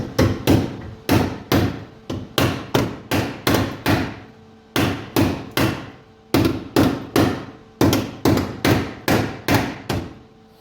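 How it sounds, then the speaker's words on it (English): A hammer taps the metal of a Morris Minor inner wheel arch repair panel in rapid, steady runs of sharp taps, close and loud, pausing briefly between bursts. "you want to get your hammer, which is here"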